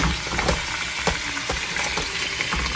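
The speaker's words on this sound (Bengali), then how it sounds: "সেজন্য গরম করে নিচ্ছি আর টমেটো ভেজে নিচ্ছি।" Tomatoes frying in a hot pan, a dense, steady close-up sizzle with faint stirring clicks throughout.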